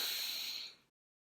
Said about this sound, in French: Inspire profondément pour te dynamiser